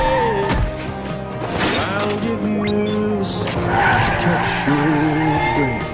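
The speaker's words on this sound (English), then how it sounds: "that ends up making the van go wild, almost hitting Penny" A van skidding out of control in a film, loud screeching tire squeals and a revving engine mixed with bangs and other action noise, close and intense.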